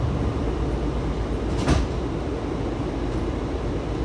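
Door noise aboard a Washington Metro Red Line Kawasaki railcar, with one short sliding thump of the doors rising over a constant low rumble of the train interior, with no voices.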